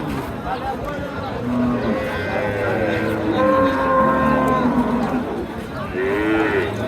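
Cattle at the crowded Sonaichandi livestock market in Chapainawabganj moo loudly and repeatedly, low drawn-out calls from a cow with her calf rising over a constant murmur of crowd chatter nearby.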